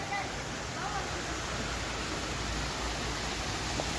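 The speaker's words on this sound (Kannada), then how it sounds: "ಎಲ್ಲ ನೀರು ಹರಿಯುತ್ತೆ." Steady rushing water at a garden waterfall in a park in Hebbal Industrial Area, a dense continuous broadband wash with no breaks, moderately loud throughout.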